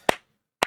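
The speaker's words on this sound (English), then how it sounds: "And then we have the slow clap" Two sharp, isolated hand claps spaced about half a second apart, crisp and close, forming a slow clap in a Gundam anime episode, with silence between them.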